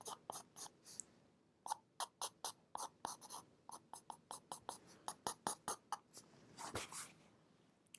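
Quick pencil strokes scratch across paper up close, coming in short rhythmic bursts of scribbling with brief gaps, soft and intimate in a quiet room.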